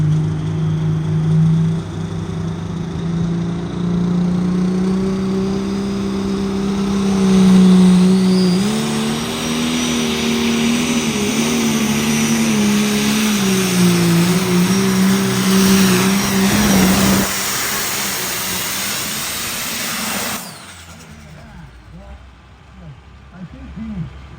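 The Red Revolver pulling tractor roars loudly down the track at an Iowa truck and tractor pull, a sustained high-horsepower engine drone that climbs and wavers for about twenty seconds before cutting off abruptly, leaving faint crowd noise.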